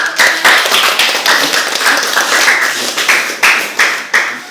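A classroom of students claps by hand in an uneven rhythm, close and loud, with the sharp slaps going on for several seconds and no talking.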